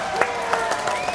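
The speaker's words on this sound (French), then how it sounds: "Applaudissements pour Pascal" A studio audience gives a short burst of applause for a singer-songwriter on a French television show; a few scattered, distinct claps sound over a steady tonal background, brief and moderately close.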